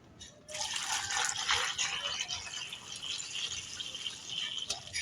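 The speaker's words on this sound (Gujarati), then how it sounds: "હવે છે ને આપણે નાખશું પાણી ધોવા માટે" Water pours and splashes steadily into a vessel to rinse pomfret fish for a masala curry, a continuous close rattling wash lasting several seconds before tapering off.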